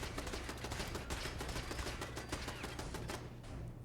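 Rapid automatic turret gunfire in Fallout 4, a dense run of sharp, evenly spaced shots rattling continuously for several seconds before cutting off near the end.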